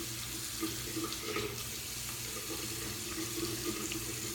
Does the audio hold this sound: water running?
yes